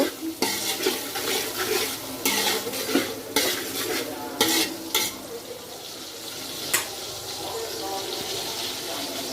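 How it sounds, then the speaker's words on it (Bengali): A big pot of vegetable khichuri is stirred vigorously, with repeated metal ladle scrapes and clanks over a bubbling sizzle, close and lively; a voice talks faintly underneath. "বিশাল বড় একটা হাঁড়ির মধ্যে খিচুড়ি রান্না করতেছি"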